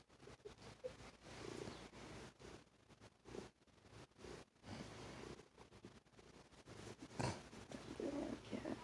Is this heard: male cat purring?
yes